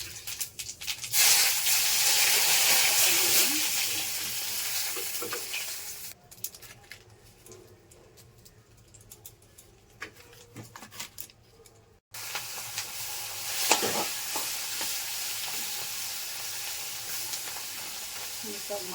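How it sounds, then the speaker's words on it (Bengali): Cumin seeds hit hot oil for a tempering and give a loud, close hiss and crackle that drops almost away in the middle, then surges back just as strongly. "জিরে ফোড়ন দিয়ে দিলাম"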